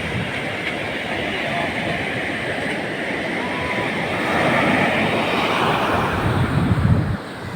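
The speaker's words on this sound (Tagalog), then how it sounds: "So malalaki talaga ang alon niya mga kabatang summer." Big ocean waves roar continuously against the shore in a loud, broad wash that builds toward the end, with no pauses.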